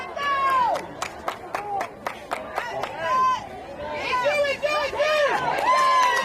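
High school JV football fans on both sides, Mooresville and Vance, roar and chatter in a swelling crowd din, with a nearby voice talking over the noise and scattered claps.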